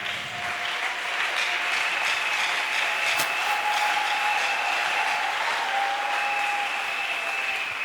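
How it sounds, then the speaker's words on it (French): A crowd applauds steadily at a testimony gathering, sustained clapping at an even level for the full stretch, with a faint tonal hum running underneath. "Est-ce qu'on peut acclamer?"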